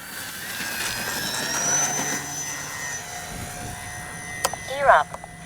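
An FMS PC-21 Pilatus RC jet trainer taking off with flaps set, its engine whine rising and fading in the open air while someone talks over it.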